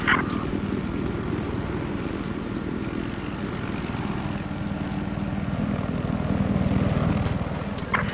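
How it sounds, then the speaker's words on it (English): An enemy helicopter in Battlefield 4 multiplayer drones with a steady rotor chop and engine roar, loud and continuous, with brief game sounds near the start and end. "I got eyes on an enemy helicopter."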